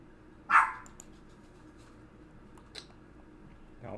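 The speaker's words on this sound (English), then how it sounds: "Don't mind the dog." A dog gives a single short bark nearby indoors, loud against a quiet room, followed by faint scattered small noises.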